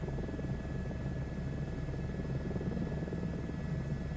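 Helicopter in Microsoft Flight Simulator 2024 flying over Yellowstone, a steady, even rotor and engine drone that holds constant for the whole stretch with no voices over it.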